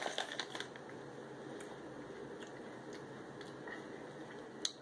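Meiji Hello Panda cocoa biscuits crunch close up, a series of faint, sharp crackling bites over a quiet steady background with no talk.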